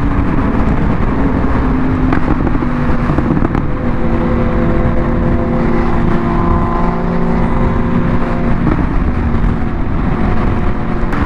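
An S1K motorcycle engine revs hard and continuously through a wheelie. The loud, sustained roar fluctuates in pitch, with no talk over it.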